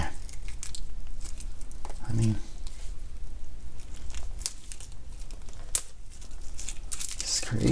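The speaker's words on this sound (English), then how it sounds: "Let's get this plastic out really quick." Plastic packaging being torn and pulled off a Hot Toys Rey collectible figure, with close, steady crinkling and tearing throughout and a few sharper rips, while a voice speaks at moments.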